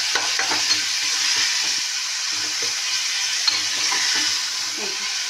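Whole green and red chilies sizzle steadily in hot oil for a fish curry, a loud, continuous hiss with faint stirring clicks and no talking.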